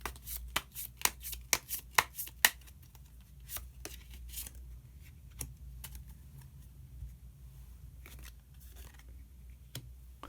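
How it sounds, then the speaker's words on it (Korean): Tarot cards shuffled by hand on a table, a quick run of crisp riffling snaps at first, then sparser soft slides and taps as a single hidden card is drawn; close and fairly quiet, no talking. "히든 카드를 한 장 더 뽑아보도록 하겠습니다"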